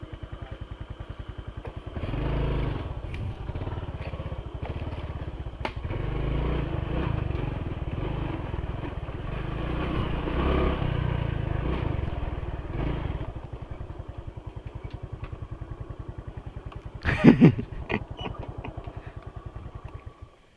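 Dirt bikes ride a trail at night, engines revving and droning steadily for long stretches, with clattering over rough ground and a sharp louder burst near the end.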